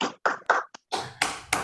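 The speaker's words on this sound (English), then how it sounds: "which really deserves an applause" A few short bursts of hand claps following a presentation, irregular and close, with brief gaps between them and no voices.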